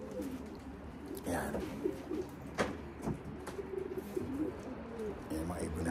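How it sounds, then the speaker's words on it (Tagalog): Young racing pigeons coo repeatedly after a salt bath, soft throaty calls close by with a few sharper chirps and brief flutters, while someone talks over them. "Yan mga ibon natin. Mga panlaban natin this year."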